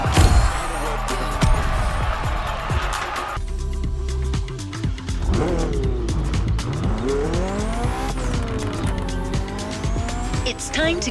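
A BMW races along Maui roads in The Crew Motorfest, its engine revving loudly and continuously with rising and falling pitch and tires squealing through corners, a voice talking over parts of the run.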